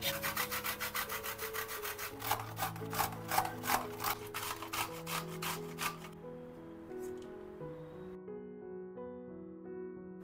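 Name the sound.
grating peeled raw mango by hand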